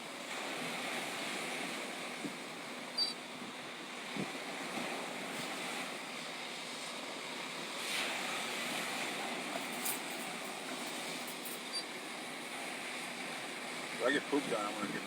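Ocean waves break and wash onto a beach in a steady, moderate surf rush, with wind and a few brief, quiet voices nearby.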